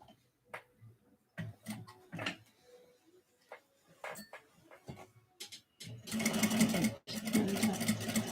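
A sewing machine stitches a small slip pocket during a sewalong, first with scattered quiet taps and short runs, then with a louder, steady run of stitching near the end. No one speaks.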